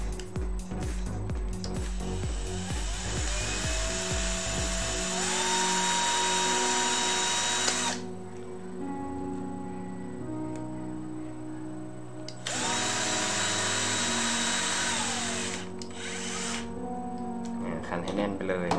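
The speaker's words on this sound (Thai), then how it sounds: "ขันให้แน่นเลยนะครับ" Screws are tightened with a power driver to mount a motor on a line-following robot, giving whirring bursts with rising and falling pitch separated by pauses, while someone speaks between and over the tool.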